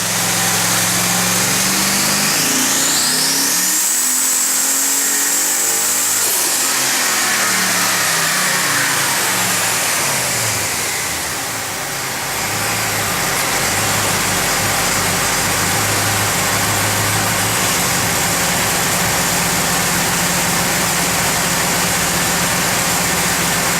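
A twin-turbo Chevrolet Silverado of about 1200 hp on a pump-gas tune roars through a dyno pull, its engine climbing hard in pitch, then dropping off and settling into a loud, steady drone.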